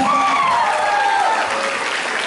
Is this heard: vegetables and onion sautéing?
no